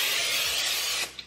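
Pam cooking spray hisses onto a baking pan in a single steady burst lasting about a second, close and fairly loud, then stops.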